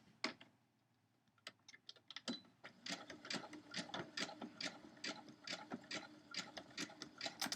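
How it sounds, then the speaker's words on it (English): A sewing machine runs a short back stitch to lock down an applique on a quilt block, rapid rhythmic mechanical ticking that starts faint and builds into a steady close run. "I'm going to do a little back stitch to lock that down"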